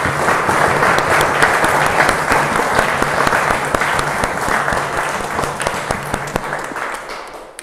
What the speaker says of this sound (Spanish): a ver un caluroso aplauso por la hermandad